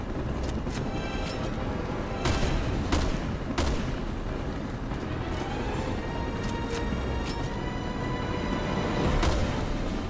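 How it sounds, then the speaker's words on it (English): Heavy gunfire from the Resident Evil Revelations 2 video game, several loud sharp shots cracking over a dense, rumbling background of continuous battle noise, with no talking. "there's an emblem over here too that you can shoot"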